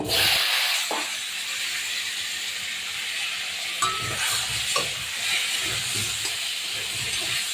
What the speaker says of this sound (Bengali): মাছ ভাজা তেলের ভিতরে আমি দিয়ে দিচ্ছি, আলুটাকে ভেজে নেব।